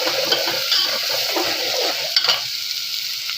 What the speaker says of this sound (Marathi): यामध्ये मी अद्रक लसूणचा पेस्ट टाकत आहे। याला 1 मिनिटापर्यंत होऊ द्यायचं आहे।